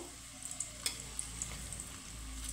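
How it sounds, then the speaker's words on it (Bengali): Paneer kofta balls deep frying on low to medium heat give a quiet, steady oil sizzle with a few faint crackles and small pops. "তো দেখো এখানে আমি লাল লাল করে কোপ্তাগুলো ভেজে নেব"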